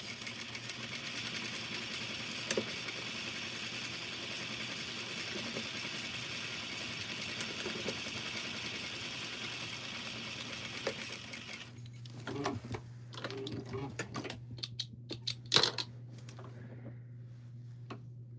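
Sewing machine stitching a pattern piece, a steady mechanical hum running for most of the stretch, then breaking into short stop-start bursts with clicks and handling noises near the end.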